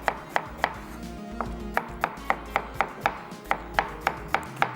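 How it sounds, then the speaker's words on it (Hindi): A knife slices onions on a cutting board, giving evenly spaced, crisp chops at a steady rhythm of about three per second. The chopping is close and clear, with no talking. "और जब तक प्याज में स्लाइस कर रहा हूँ"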